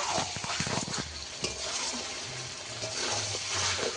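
Chicken skin cooks with potatoes in a pan being sautéed. A soft, steady sizzle sits under irregular stirring scrapes and light clatter, fairly quiet and close, with no talking.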